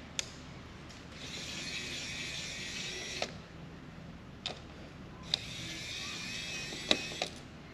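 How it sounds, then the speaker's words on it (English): A Kaiweets electric screwdriver backs out screws in two close, moderate whirring runs of a few seconds each, separated by small clicks and taps. "I think sometimes some of the screws are just tougher, so it bogs down a little bit."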